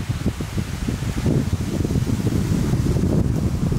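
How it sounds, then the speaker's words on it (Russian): Strong wind gusting outdoors at a countryside spot as the weather turns, a loud continuous low rumble and buffeting against the microphone with pulsing surges, no voices heard. "Какой поднялся сильный ветер."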